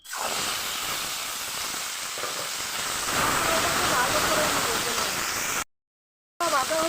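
Bay leaf, cumin, dried chilli, pepper and ginger paste frying in hot oil for a Bengali katla fish curry, a steady loud sizzling hiss that briefly cuts out near the end, with a voice talking over it.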